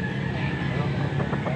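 Young gamecock stag clucking among other fowl at a busy cockfighting bird market in Pampanga, short close clucks under voices and background commotion.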